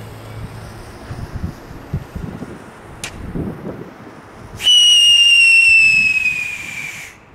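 A whistling firework launches with a sharp pop, then a loud, piercing whistle rises and slowly falls for a couple of seconds before fading.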